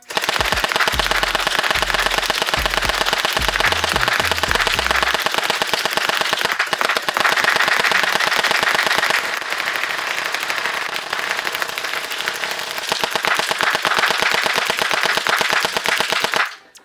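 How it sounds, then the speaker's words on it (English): An AnsToy AKM47 gel blaster fires in a sustained rapid automatic burst, loud and continuous for most of the stretch, with dense snapping shots and no talking. "Let's see how far this blaster shoots."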